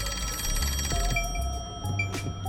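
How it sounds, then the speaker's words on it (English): A telephone rings insistently in Master Detective Archives: Rain Code, a steady electronic bell trill with bright repeating tones alone over faint game music. "They are very persistent on this phone ringing"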